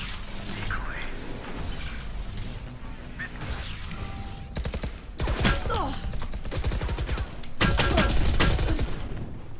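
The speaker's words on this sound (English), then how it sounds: "How do you just shoot through a wall?" Rapid automatic gunfire fired through a wall in the video game Valorant, loud dense bursts of shots with impact crashes, interspersed with game effects and voices talking.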